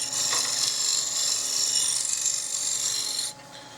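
A 1-inch square scraper rasps steadily against a spinning cherry wood bowl on a lathe, a continuous close hiss that stops abruptly near the end.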